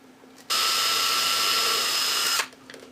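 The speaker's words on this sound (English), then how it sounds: "So I can lay it there, drill, and turn it over and drill again." A power drill whirs steadily at close range for about two seconds, drilling holes in wood, starting and stopping abruptly, with no talking over it.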